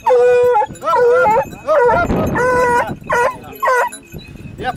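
A pack of hunting hounds at a French pack-hunting contest bays and howls loudly in overlapping bursts, several dogs yelping and whining together in a continuous near chorus.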